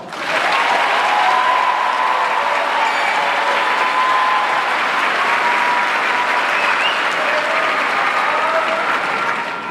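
A large graduation ceremony crowd at MRHS gives a round of applause to an honored group. The clapping is loud, dense and sustained at an even level, filling the whole hall with no voices on top.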